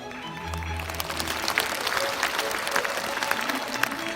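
Audience applause at an official ceremony where dignitaries are introduced, a steady, fairly loud clapping from a crowd lasting several seconds, with broadband patter and a low hum beneath.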